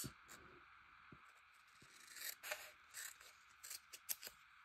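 Scissors snipping and sliding through paper for an art collage, a series of short quiet cuts and scrapes with irregular rhythm, close by, with no talking.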